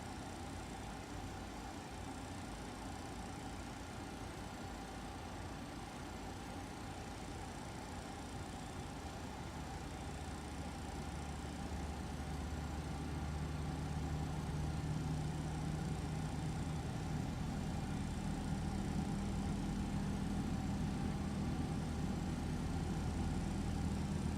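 In a flight simulator, engine 3 of an MD-11F freighter spins up on start, a steady whine and broadband rumble that slowly builds in strength and low-end depth, continuous and fairly loud with no talking.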